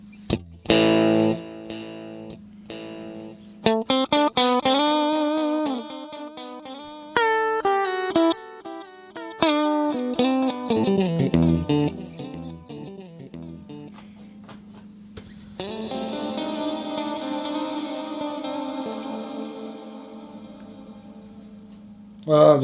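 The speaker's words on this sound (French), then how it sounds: "là j'ai mis une reverb de type hall qui fait un son très lointain." Electric guitar played through an FCB1010 foot-controller rig with a hall-type reverb, its picked notes and chords washing into a long, distant-sounding tail, loud and continuous with no talking.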